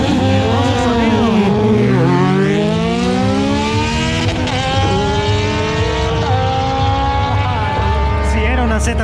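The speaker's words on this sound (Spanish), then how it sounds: "Me parece que es una Z900. Hermoso sonido." Kawasaki Z900 motorcycle exhaust at a night bike meet at an airport, a loud continuous engine roar with rising and falling revs, running under a wash of crowd and traffic noise.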